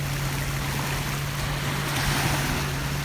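Seawater splashing against a boat at sea, a dense constant wash of spray and waves close to the microphone, with a low steady engine-like hum underneath and no talking.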